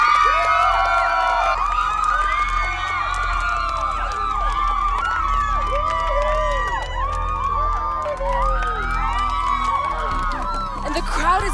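A large, excited crowd roars and cheers as a Supreme Chancellor steps out of his car, loud continuous shouting and whooping over a low rumble, rising in a burst at the close.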